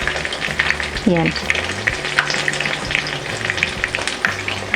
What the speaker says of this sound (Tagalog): Kailangan po lutong-luto yung ating kasag or crabs.